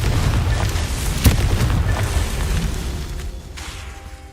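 A Confringo spell explodes in Hogwarts Legacy, a heavy booming blast with a sharp pop at its peak, rumbling on loudly before slowly fading away.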